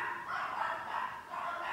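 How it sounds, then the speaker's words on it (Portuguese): Dogs barking at a home, a steady run of muffled, somewhat distant barks going on without a break. "vocês me perdoem pelos cachorros"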